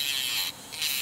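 Electronic nail file from a Dollar Tree nail kit buzzing, a thin high-pitched motor whine that briefly drops in pitch and loudness before revving back up; close and alone.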